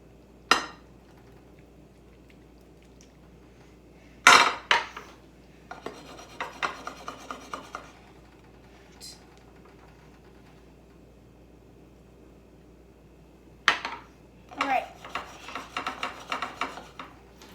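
Ground meat mixture for a taco casserole dumped into an 8 by 11 baking pan and spread out, heard as sharp clinks and bursts of rasping utensil scrapes against the pan, close and with no talk.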